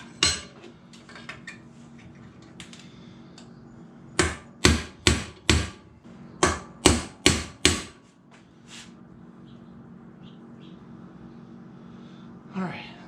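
Metal hammer blows drive a pin down on a Trans Am part clamped in a vise: about nine sharp, ringing strikes in a steady rhythm, loud and close, over a low shop hum with brief clinks before and after.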